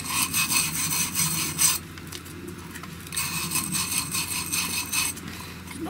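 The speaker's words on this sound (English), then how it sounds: "Just got a little wire brush, and I'm just going to go around these threads." Close, steady scratching of a small wire brush scrubbing corroded threads on a pan-and-tilt IP camera dome, rasping in continuous strokes with a brief pause midway.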